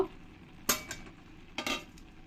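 Two brief scraping stirs in a pot as fried shrimp are mixed into jute leaf greens, each a quick burst of utensil against metal with quiet pauses between.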